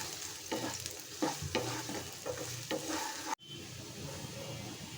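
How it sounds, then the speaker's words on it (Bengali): Onions crackle and sizzle in hot oil as they brown into birista, with a spatula scraping the pan in uneven strokes; the frying is close and continuous, dropping out for an instant partway through before resuming. "এখন আমি বেরেস্তা ভেজে নেব।"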